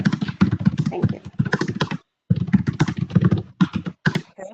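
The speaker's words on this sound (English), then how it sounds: "I hear some mad typing" Rapid, heavy typing on a computer keyboard during an online meeting, a close, dense clatter of keystrokes in bursts with a brief pause midway.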